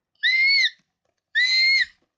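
A person voices two high, whistle-like shrieks in imitation of an alarm-style sneeze, each about half a second long and loud, with a short silent gap between them.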